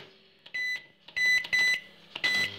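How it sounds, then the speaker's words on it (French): A microwave oven runs while a batch of homemade slime heats, its panel giving several short electronic beeps in quick bursts over a faint hum, near and clear. "on y fait chauffer 30 minutes dans le four à micro-ondes"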